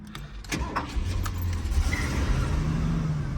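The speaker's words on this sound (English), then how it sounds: "I'm going to start it up now for you" Keys jingle and click briefly, then a 1970 Lincoln Mark III engine cranks and catches in cold weather, settling into a low, steady idle close by.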